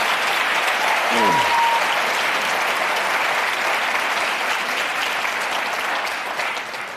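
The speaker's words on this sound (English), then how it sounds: "I think this is one time when we ought to just give them both a real round of applause." Sustained audience applause at a 2025 Virginia Attorney General debate fills the whole clip, steady and dense with a faint whistle early on, tapering slightly toward the end.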